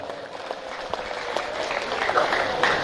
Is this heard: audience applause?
yes